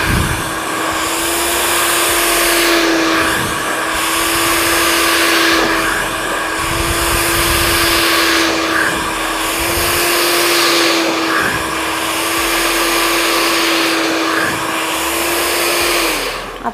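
A handheld hair dryer blows steadily while hair is blow-dried at home for a layered cut, a loud continuous whirring hum with a steady motor tone, its airflow dipping briefly every couple of seconds as it moves through the hair.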